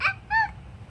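A voice gives two short, high yelps in imitation of a dog barking, close by, with a brief pause between them.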